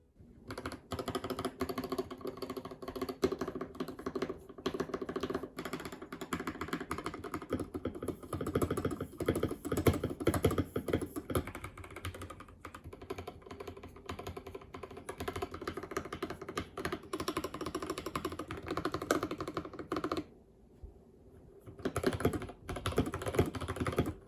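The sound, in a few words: mechanical keyboard linear switch keystrokes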